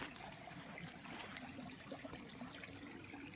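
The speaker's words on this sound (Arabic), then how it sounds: "سامعين صوت المية اصلا؟" Faint, steady flowing water in a forest in Kuala Lumpur, a soft continuous trickle heard from a distance in a quiet setting.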